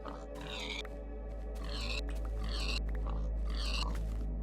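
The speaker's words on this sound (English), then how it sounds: "I knew I heard oinking around here somewhere" Pig grunts and oinks in a survival video game, several short bursts in a regular rhythm over a steady low hum, fairly close and moderately loud.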